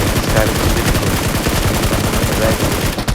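Dense, continuous automatic gunfire from a mobile shooter video game rattles rapidly and loudly throughout, with no break in the bursts.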